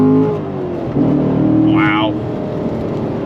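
A Corvette C7 Stingray Z51 Premiere Edition with a 7-speed manual gearbox pulls away under throttle, its engine note rising steadily and loud from inside the cabin, while a voice exclaims over it.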